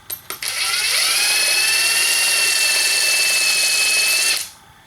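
During a car's front suspension teardown, a high-pitched power tool whines steadily for about four seconds after a couple of short bursts, then winds down.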